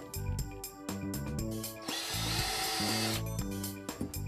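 A power drill drives screws into a kitchen oven housing appliance unit during assembly, giving bursts of whirring and grinding, with the longest sustained run in the middle, all fairly close and alone.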